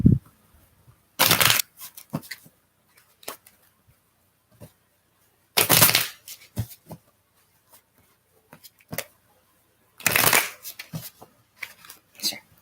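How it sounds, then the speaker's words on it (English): A deck of tarot cards is shuffled in three short, crisp riffling bursts, with soft taps and card handling between them, close up and with no talking. "I'm just going to give these cards a little bit of a different shuffle"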